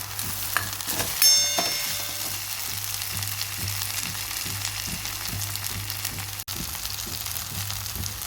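Curry leaves, tomato and coriander frying in a pan for a spicy cauliflower curry: a steady, moderate sizzle with regular soft stirring taps, one brief sharp clink near the start and a sudden knock later, with no voices.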